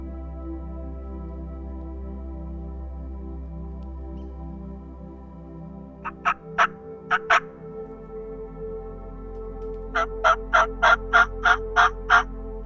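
A wild Gould's turkey gobbles in Mexico in two rapid bursts of sharp, rattling calls, the second volley longer, over a steady low hum outdoors with no talking.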